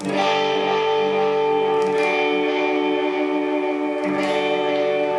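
Sustained electric guitar tone through a Boss delay pedal (RE-20 Space Echo or DD-20 Giga Delay), with layered repeats and echo trails, steady and loud throughout, with no one talking.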